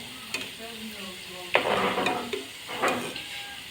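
Chira and egg pitha fry in a pan, with a steady sizzle broken by two louder scraping bursts as a spatula turns and stirs them nearby.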